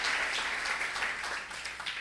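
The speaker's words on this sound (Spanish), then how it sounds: "¿Será que le puedes dar un aplauso fuerte?" A church congregation applauds steadily after a sermon, the dense clapping holding for about two seconds and tapering slightly toward the end.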